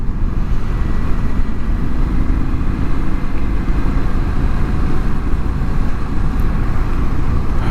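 A 2025 Indian Scout Sixty motorcycle engine runs steadily during a ride, a loud continuous low rumble with constant wind noise and no talking.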